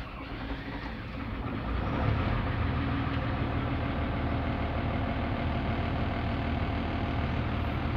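A vehicle engine with a defective start-lock relay runs at a steady idle after starting, a dense low rumble that swells slightly around two seconds and then holds constant and fairly close.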